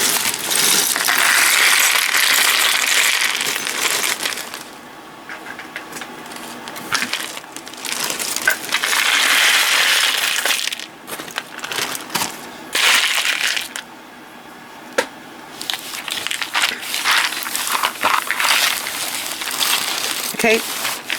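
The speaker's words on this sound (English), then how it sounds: "So I'm going to dump this into the box." A large, decades-old collection of jewelry beads, some of them glass, pours into a box in loud, continuous rattling cascades with brief pauses between dumps, and a voice is heard at times.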